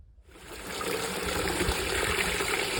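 A canyon stream at Terrace Canyon in Red Rock trickles and gushes steadily, close and continuous, rising in from near silence and then holding a full, bright burble with no voices.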